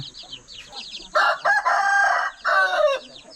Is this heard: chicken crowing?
yes